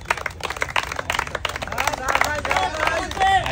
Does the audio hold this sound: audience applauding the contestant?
yes